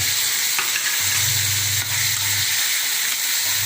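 Turkey berry chutney with tamarind and dried chilies sautéing in a pan, a steady close sizzle and hiss that runs the whole time, with a low hum and light stirring beneath.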